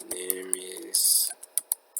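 Computer keyboard being typed on while writing HTML, a run of sharp, close keystroke clicks with a longer burst in the middle, following brief talk.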